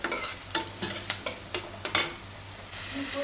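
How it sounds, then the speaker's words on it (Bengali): Vegetable stems dropped into hot oil with onion for a chorchori, frying with a steady sizzle and a series of sharp utensil clacks against the pan, close up. "তেলে দিয়ে দিলাম ডাটা"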